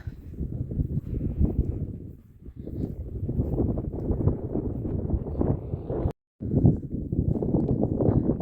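Steady gusting wind buffets the microphone at Hadrian's Wall in England, low roaring rumble throughout, briefly dropping out for a moment before the blustery noise returns.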